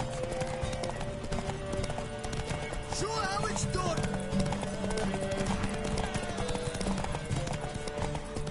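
Horse hooves gallop in the video game The Witcher 3, a steady rhythmic clip-clop running throughout at moderate volume with an occasional whinny, while voices shout over it.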